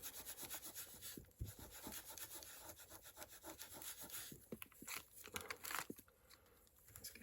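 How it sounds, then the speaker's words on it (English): Paper scraps coated with ink are rubbed with a hand tool, giving quiet, close, rhythmic scraping strokes that speed up and slow down. "Let's give it a bit of a rub now with this."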